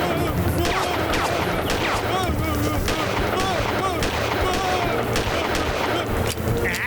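Rapid cartoon gunfire rattles in dense bursts with crashing impacts and busy music underneath, loud and continuous throughout, in a Tamil kids' cartoon story.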